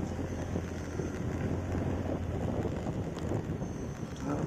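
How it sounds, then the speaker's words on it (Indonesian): Strong wind sweeps across the Cangar mountain road near Batu, Malang, roaring steadily and buffeting the microphone with a constant low rumble. "Angin ya Allah, ya Allah, angin ya Allah."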